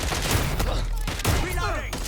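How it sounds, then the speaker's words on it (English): Steady automatic gunfire in a Watch Dogs Legion firefight, continuous and loud for the whole moment, with voices calling out over the shooting. "They're shooting at us!"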